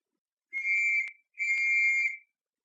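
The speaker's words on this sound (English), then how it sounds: "the distant whistle shrilled again" Two long shrill whistle blasts sound one after the other with a short gap between them, clear and piercing against silence.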